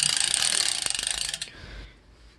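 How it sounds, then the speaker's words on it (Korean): Rapid ratcheting clicks from a bicycle pedal being moved during a repair check for bike noises, a close, steady ticking that slows and trails off into quiet after about a second and a half. "페달에서 소리가 나는 것 같다"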